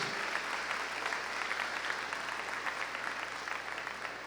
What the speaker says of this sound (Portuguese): aplauda o nome do Senhor, louvado seja Deus